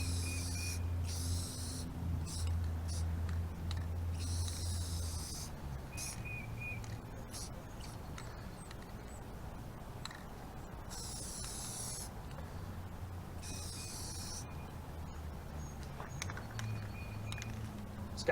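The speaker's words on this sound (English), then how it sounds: "we're going to hit it with a second coat. Light coats," Short bursts of spray paint hiss as a second light coat goes onto a car's lower grille for a chrome delete, several separate sprays with pauses between, over a low steady background hum.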